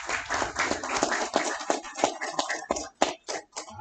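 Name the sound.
audience applause at a graduation ceremony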